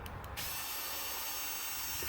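Skil 4V cordless screwdriver with a 1/4 inch hex collet and LEDs running steadily after a short click, its motor whir holding level for about two seconds close to the mic, with no talk.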